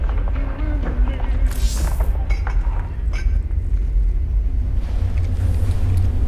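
Siege tank guns in the video game StarCraft 2 give a continuous heavy low rumble, with occasional metallic clinks and muffled bursts on top.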